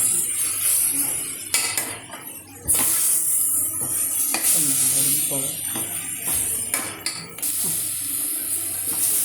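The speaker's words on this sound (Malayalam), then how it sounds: "നമുക്കൊന്നുകൂടി ഇത് ഇളക്കി ഇളക്കി മാറ്റി വെക്കാം" A spoon scrapes and clinks against a pan in irregular strokes as green peas curry is stirred, with faint sizzling underneath.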